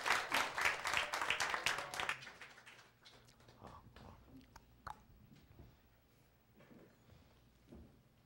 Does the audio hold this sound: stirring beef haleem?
no